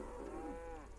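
A single short moo from a cow in Assassin's Creed Origins, heard up close and clear with nothing else around it.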